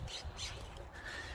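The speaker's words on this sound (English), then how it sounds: "Hear the birds." Faint birds chirp outdoors in short, high bursts, a couple of calls heard against a soft background hiss.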